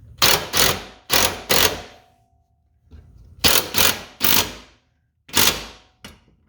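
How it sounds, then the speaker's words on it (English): Ratcheting combination wrench tightening side step bolts on a 2012 Jeep Grand Cherokee, heard as several loud, close bursts of rapid clicking separated by short pauses, with no talk. "I'm just using a ratcheted combo wrench, and then just a standard combo wrench"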